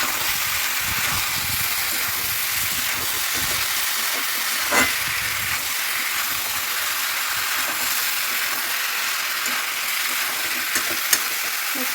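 A pot of curry with tomatoes, green chillies and cumin powder bubbles and steams on the stove, a steady close sizzling hiss that goes on without a break throughout.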